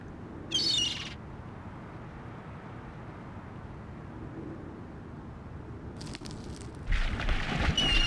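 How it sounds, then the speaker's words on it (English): In a point-and-click adventure game, a seagull lets out a short, sharp call over a low, hissing ambient bed, then calls again more loudly near the end. "It's a seagull."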